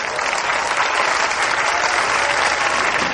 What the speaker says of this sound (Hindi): इधर के लोग कम तालियां बजा रहे हैं